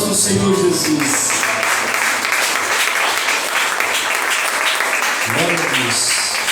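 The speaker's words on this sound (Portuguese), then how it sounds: "Palmas para o Senhor Jesus" Congregation in a church claps continuously, a dense, loud wash of applause with a voice briefly singing or calling out at the start and again near the end.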